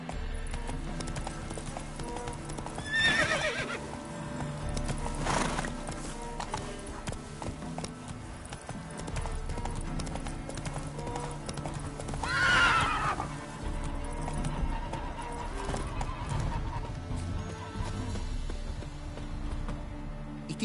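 Geralt's horse Roach in the video game The Witcher 3 gives two loud whinnies amid steady hoof clip-clops, with game music and faint voices underneath.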